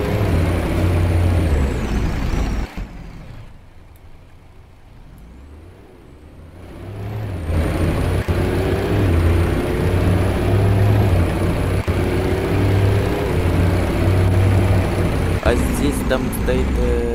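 A bus driving in the Roblox Transport Simulator game: a steady engine drone with rising and falling gear whine, briefly dropping quieter before the engine swells again, with a few sharp clicks and hisses near the end.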